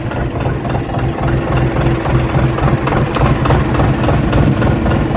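A Dongfeng DF 244 tractor engine idles steadily with a low, rumbling chug and slight vibration, continuous and close, with no voices.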